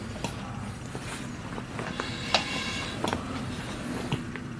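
A Briggs & Stratton 16 HP twin engine is turned over by hand. Soft, irregular mechanical clicks and thumps are heard close up and fairly quiet, with no engine firing.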